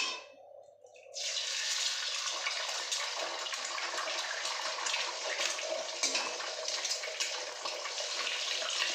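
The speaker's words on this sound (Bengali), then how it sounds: "তেলটা গরম হয়ে গেছে, এখন আমি ডিমগুলি ফাটিয়ে দিয়ে দিচ্ছি" Eggs are cracked into hot oil in a pan. After a second of near silence, a loud hissing sizzle bursts in and holds steady and close.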